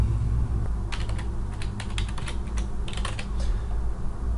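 Keys tapped on a computer keyboard to enter a password at a login screen, a quick irregular run of light clicks over a steady low background hum.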